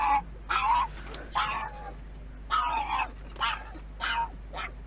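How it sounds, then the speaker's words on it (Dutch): Dogs bark at a PetSmart pet store in a series of about seven loud, sharp, nearby barks spaced at irregular intervals over a steady low hum, with no talking. "Die honden zijn nog geniaal, hoor."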